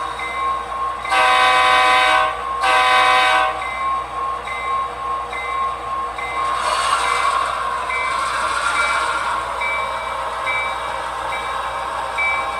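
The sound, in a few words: toy model train running with its bell ringing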